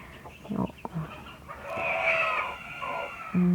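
A chicken near a home kitchen clucks a few times in short bursts, then lets out a loud, drawn-out crow, with another cluck close by at the very end.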